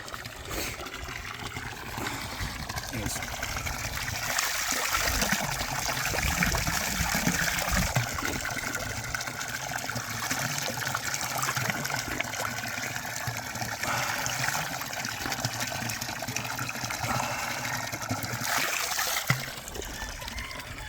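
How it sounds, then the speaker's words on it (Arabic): Spring water flows out of Ain Boudra mountain near Sidi Kacem, a steady rushing trickle and splash that continues without a break for the whole stretch, with no talking. "وهاد العين هذه خارجه من جبل عين بودره كما كتشوفوا"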